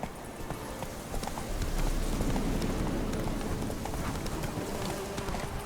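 Roach the horse gallops in The Witcher 3, a steady rapid clip-clop of hooves running continuously under a broad wash of ambient noise, close and even-paced.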